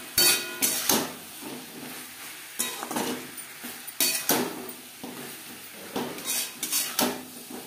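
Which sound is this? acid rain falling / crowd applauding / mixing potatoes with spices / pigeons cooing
mixing potatoes with spices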